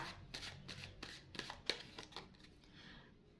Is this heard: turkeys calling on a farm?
no